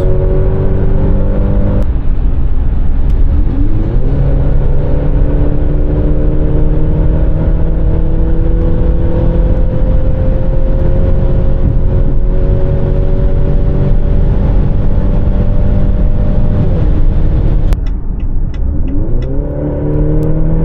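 A Maserati Grecale's 2.0-litre, 300 hp engine revs up and holds a loud, droning exhaust note for a long stretch, then drops and revs again, close and alone.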